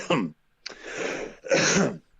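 Three rough coughs and throat-clearing bursts come close to the microphone, a short harsh one followed by two longer, raspy hacks.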